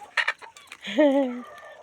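Backyard hens and chicks fed kitchen scraps give a few quick clucks, then one hen lets out a drawn-out, wavering squawk, close by and clear with no talking.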